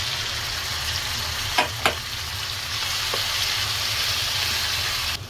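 A ready spice mix sizzles and fries steadily as it goes into a pot of khichuri, a close continuous hiss with a couple of short stirring knocks and no talking.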